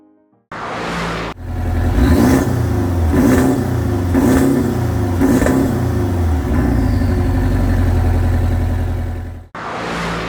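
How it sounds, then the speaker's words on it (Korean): A Porsche 718 Boxster S, tuned, revs repeatedly through its exhaust, several sharp throttle blips rising and falling over a rumbling idle, loud and close, with no talking. "이쯤에서 이 차 배기음 그리고 탑 열고 닫히는 모습도 보여드리도록 하겠습니다"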